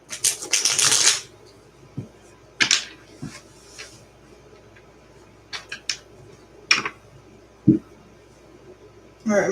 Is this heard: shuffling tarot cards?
yes